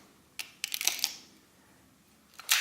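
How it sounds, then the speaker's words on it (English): Advance lever on a 35mm film camera winding film onto the take-up spool, heard as quiet ratcheting clicks in two short bursts with a final sharper click, close and isolated. "we need to advance the film across here, and the way to do that is with the film advance lever"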